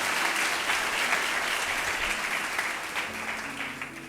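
A church congregation claps in praise of Jesus, a loud, continuous roar of many hands beating together that holds steady throughout and eases only slightly at the close.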